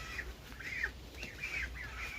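Young goslings out grazing in a village yard give soft, repeated peeping calls, several short chirps in a loose rhythm, faint and at a moderate distance with no talking.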